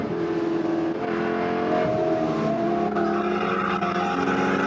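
Spec Corvette race car at speed on the Chuckwalla Valley Raceway circuit, a loud continuous engine drone with shifting pitch as it is driven hard, steady throughout with no talk.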